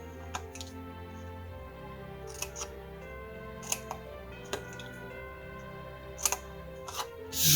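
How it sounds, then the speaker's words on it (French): Scissors snip the glue tabs of a paper Christmas ball at an angle, making scattered quiet crisp cuts over a faint steady background hum, with no voices. "Les pattes de collage, je les coupe en biseau."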